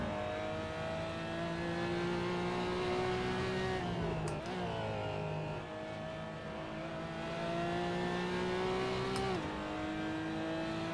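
Race car engine in the Assetto Corsa racing game, an AMR model, holding a steady high drone that twice drops in pitch as it shifts or lifts, then climbs again, loud and continuous with no talk.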